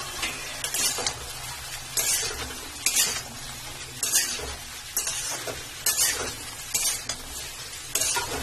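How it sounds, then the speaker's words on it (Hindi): A spoon scrapes through pointed gourd (parwal) with a little water in a pan, in steady strokes roughly once a second over a soft sizzle and occasional clinks against the metal. "अब मैं मिक्स कर लेती हूँ अपने इस परवल को"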